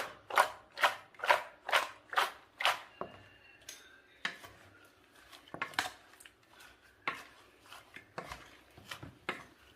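Mango pieces are rubbed and mixed by hand with turmeric and spice powders for an old-style Kerala pickle, giving a run of regular, close scraping strokes in a vessel that turns into scattered, uneven scrapes and taps.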